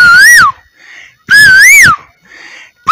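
A man mimics the call of a koel bird with his mouth, giving two loud, rising-and-falling whistled notes separated by short pauses, with a third starting at the end.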